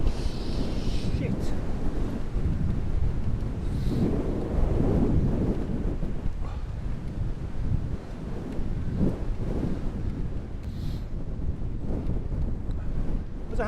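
Strong wind buffets the microphone continuously while cycling on a Dutch bike along an exposed road toward Giethoorn with only scattered trees, a loud steady roar with gusts throughout.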